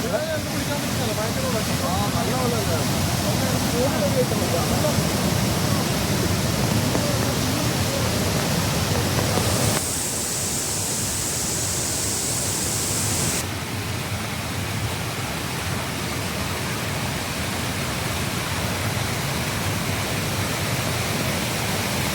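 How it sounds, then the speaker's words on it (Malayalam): A small forest waterfall on a rainy route near Palakkayam Thattu, Kanjirakkolly, roars steadily with forceful flowing water, a broad, constant rush close by that shifts slightly in tone midway, with no clear speech over it. "അളകാപുരി വാട്ടർഫോൾസ് കാണാൻ പറ്റാത്തതിൻ്റെ വിഷമം ഈ വെള്ളച്ചാട്ടം കണ്ടപ്പോൾ അല്പം കുറഞ്ഞിട്ടുണ്ട്"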